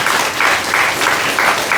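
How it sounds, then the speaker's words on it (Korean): A congregation at a Korean church service applauds loudly for about two seconds, the clapping swelling in uneven waves with little talk. "그래서 박수 한번 쳐주겠습니다"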